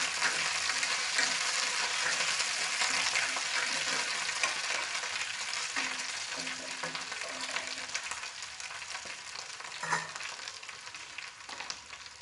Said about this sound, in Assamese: আলুখিনি আধা সিজা হোৱালৈকে ভাজিব।